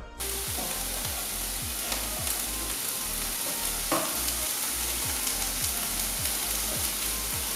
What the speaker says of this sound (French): Donc là, ces oignons, on va les faire griller dans une poêle.